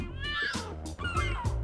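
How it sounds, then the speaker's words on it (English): A cartoonish cat meows from the LEGO City Undercover video game, a fire-station mascot trapped on a ledge. It gives a couple of drawn-out, wavering meows, close and clear over a steady background music bed. "You want me to rescue a cat?"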